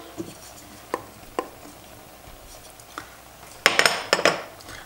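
Metal clinks and clatter of a pot and lid as butter goes into buckwheat cooking on the stove, a few sparse taps followed by a louder cluster of scraping, rattling knocks near the end; no talk.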